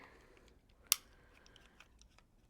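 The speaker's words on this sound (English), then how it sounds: "I'm going to find my 3-inch mark. I'm going to cut here" A single crisp snip through quilting fabric at a three-inch mark on a quilting project, one short sharp cut standing out from a quiet room, with faint softer handling noises after it.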